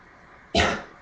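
A single sharp cough after abdominal surgery bursts out after a moment of quiet, close and loud, then trails off quickly.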